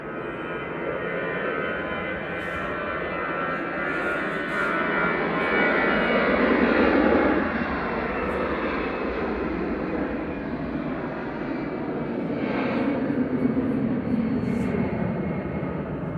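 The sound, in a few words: EasyJet Airbus A320 departing Manchester Airport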